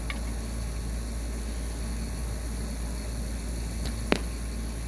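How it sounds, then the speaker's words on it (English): A single sharp thwack of an arrow striking a target near the end, faint and brief, over a steady outdoor hiss. "until it actually makes an impact into the target like this."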